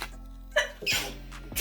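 A single sharp sneeze bursts out close by during an unboxing at home, followed by a shorter second breathy burst near the end.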